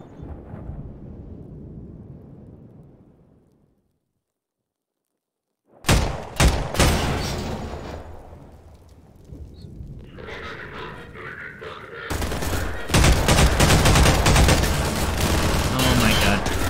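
Pulse rifle gunfire in Half-Life 2 played through Garry's Mod: dense, loud bursts of rapid shots with booming impacts, starting after a quiet stretch and continuing heavily to the end, with game sounds mixed in.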